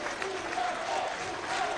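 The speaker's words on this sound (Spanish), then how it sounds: "Desde acá los aplauden, es un legado, es un aplauso que reciben estos niños." Audience applauding children at a government cultural event, a steady wash of clapping from a crowd at moderate distance, with faint voices mixed into it.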